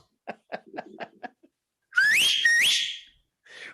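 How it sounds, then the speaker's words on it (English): A loud, shrill whistle rises sharply in pitch, holds, then rises again for about a second. It follows several short bursts of chuckling or snickering, and a faint sound trails at the end. "If you got more than one kid, you need a whistle."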